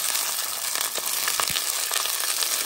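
Curry leaves and garlic fry in a pan for a coconut-free South Indian fish curry, a close, steady hissing sizzle with small crackles and a few light stirring sounds throughout.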